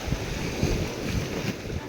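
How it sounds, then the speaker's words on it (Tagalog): Strong sea waves surge and churn close by off Tinian Island, mixed with heavy wind buffeting the microphone in a loud, continuous roar. "Malakas ang alon"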